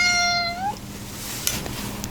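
A cat gives a single loud, close meow that rises and breaks off, followed by quiet room noise and a faint tap.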